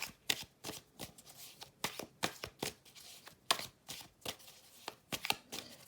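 Oracle cards being shuffled by hand, close and crisp, in a rapid run of riffling bursts with short gaps between them, no talking.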